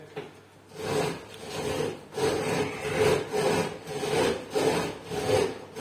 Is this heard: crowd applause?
no